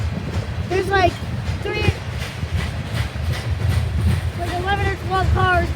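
Freight train carrying flatbed cars loaded with John Deere tractors rolls past with a steady low rumble and rail noise, a talker heard briefly over it along with a few squealing wheel or brake tones.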